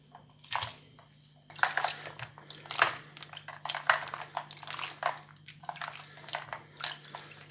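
Homemade butter being rinsed and worked in water to wash out the buttermilk: irregular splashes, squelches and drips close by, starting after a quiet moment and continuing in uneven bursts.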